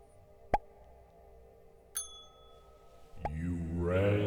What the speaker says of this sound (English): You rang the bell?